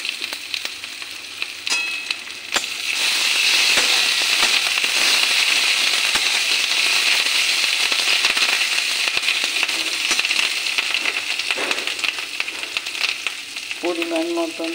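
Carp fish roe sizzles and spits loudly in hot oil in a pan with onion and garlic, a dense steady crackle running throughout with a few sharp pops and stirring scrapes near the end.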